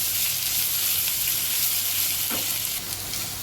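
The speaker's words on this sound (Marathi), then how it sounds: "शिमला मिरची परतून झाली आहे" Sliced capsicum being sauteed with onion in a pan, a loud continuous sizzle and hiss of hot oil with a brief stirring scrape partway through, no talk.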